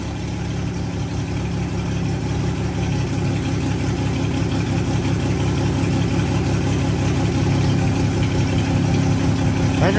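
Chevy S-10 pickup engine running steadily in first gear, a continuous low rumble with a slight rise in revs toward the end, close and alone.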